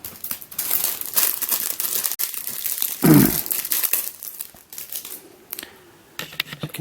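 Crinkly plastic packaging holding mf8 puzzle stickers is handled close by, with continuous rustling and crackling and a louder crumpling burst near the middle before it quiets.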